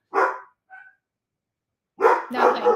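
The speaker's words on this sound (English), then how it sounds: "would it be alive if my dogs didn't bark?" Dogs barking close by in a couple of loud, rough bursts: one bark, a small yip, a long pause, then a quick double bark.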